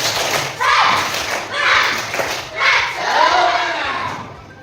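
A group of teachers in a school setting doing a rhythmic spirit clap, loud claps and thumps arriving in regular bursts about once a second, mixed with group chanting voices.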